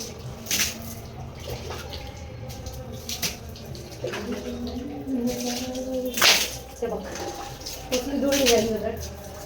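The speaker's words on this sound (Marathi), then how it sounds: "आवाज कसा आला तो पाणी खाली पडल्यावर" Water spills and splashes down inside a home in a few sharp, close bursts, with household voices talking in between.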